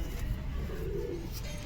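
A Giribaz pigeon coos briefly and softly, a low close murmur standing alone in a quiet room.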